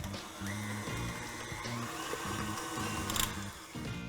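An electric mixer beats strawberry puree into frosting, giving a steady motor whir with a slight rhythmic churn that runs throughout at a low level, with no talking.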